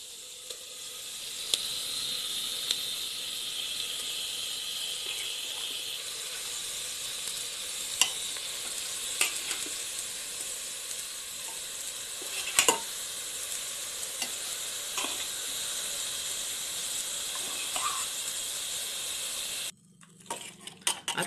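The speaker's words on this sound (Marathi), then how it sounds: "आता ह्या फोडणीमध्ये मी हे मटण परतून घेते व्यवस्थित." Marinated mutton sautés in a spiced oil tempering, a loud continuous bright sizzle with scattered scraping stirs and clinks, steady until it drops off near the end.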